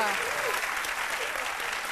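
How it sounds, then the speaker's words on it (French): An audience claps continuously, a dense, steady wash of applause. "vous applaudissez pour les encourager."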